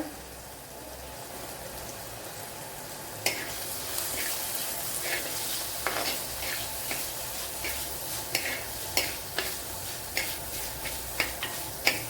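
Onions and tomatoes sauté in a pan for a dry mackerel fish curry, a soft continuous sizzle broken by repeated sharp scrapes and taps of a spoon stirring against the pan, close up.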